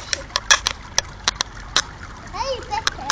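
Water splashing at an outdoor fountain with fish, a series of short sharp splashes at irregular intervals, close by, with an adult talking softly and a voice in between.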